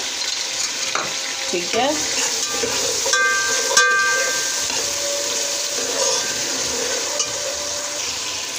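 Cumin seeds sizzle in hot oil in a pan while aloo methi is cooked, a steady close hiss with faint stirring clicks and a brief spoken word over it.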